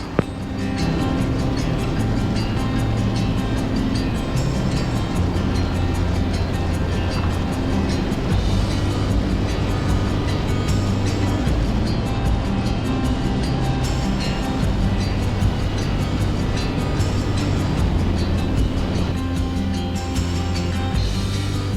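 A Cessna Skyhawk light aircraft engine drones steadily during a landing approach to runway 23 at a small mountain field, a loud, unbroken cabin hum with an even tone and no pauses.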